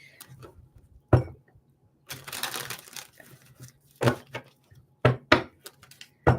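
A deck of tarot cards is shuffled in several separate bursts of riffling and snapping, close and crisp, with quiet pauses between the shuffles.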